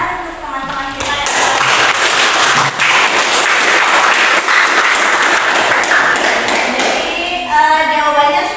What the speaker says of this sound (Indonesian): Beri tepuk tangan untuk teman-teman kita yang